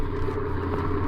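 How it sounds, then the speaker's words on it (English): A truck and trailer driving along a West Texas highway toward El Paso, a steady low engine and road rumble, heard alone. "a truck and trailer pushing steadily westward toward El Paso"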